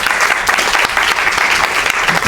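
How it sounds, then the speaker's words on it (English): A room full of audience members gives a dense, steady round of applause for Dr Iwan Syahril after his talk at an education dialogue, close and loud throughout. "Another round of applause"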